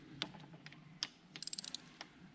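Small hand wrench working loose the valve cover bolts on a Kawasaki Z400 motorcycle engine during a top-end teardown: faint, close metallic clicks and a quick burst of ratcheting ticks in a quiet workshop.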